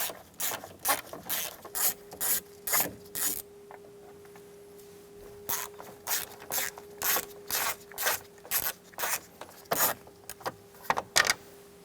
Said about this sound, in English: we're going to use a T25 bit and remove the 2 screws for the bottom cover